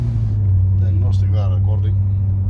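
A 2008 Mercedes S63 runs with a steady, heavy low cabin rumble as it drives over a speed hump, while a voice speaks briefly over the engine drone.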